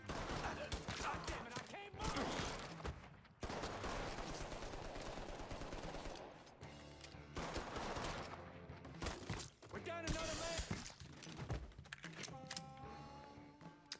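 Rapid bursts of automatic gunfire from the player's gun in the video game Mafia 3: Definitive Edition, loud, dense volleys with short pauses between them, continuing throughout.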